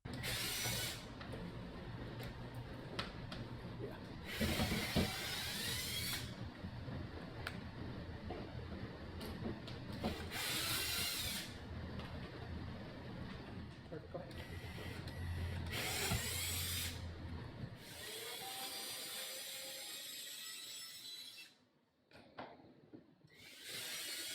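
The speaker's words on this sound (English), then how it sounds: "Using a drill with a Phillips head or screwdriver, carefully remove the screws." A power drill with a Phillips bit whirs in repeated bursts, removing screws from a walk-in cooler or freezer gasket, starting and stopping every few seconds, close and fairly loud.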